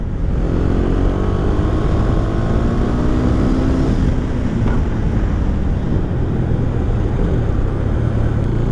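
A 2017 KTM Duke 390 motorcycle engine of 44 horsepower, heard as a loud steady drone while riding, with rising engine tones at first under heavy wind rumble and no speech.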